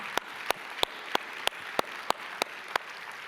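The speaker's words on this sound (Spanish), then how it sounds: "Dale un fuerte aplauso al Señor," A church congregation at a Spanish-language service gives the Lord a round of applause, heard as sparse, evenly spaced single claps about three per second against a quiet room background rather than a dense ovation.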